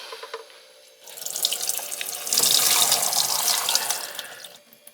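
Tap water runs into a sink through the small debris strainer of a Bissell TurboClean 3548 wet-dry vacuum, splashing steadily and growing louder before cutting off, close and without voices.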